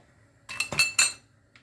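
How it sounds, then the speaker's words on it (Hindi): A metal slotted spoon is set back into a pan of frying oil while making chiwda from flattened rice, producing a few close, sharp metallic clinks in quick succession and then a faint tap. "झर को वापस इसमें रखें"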